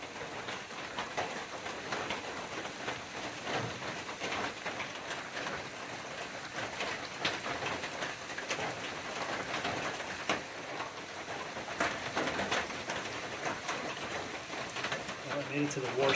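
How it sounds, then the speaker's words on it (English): Heavy rain pours steadily outside a trail shelter on the Appalachian Trail, a dense continuous hiss with scattered drips and patters, moderately loud throughout with no talk. "Pouring rain."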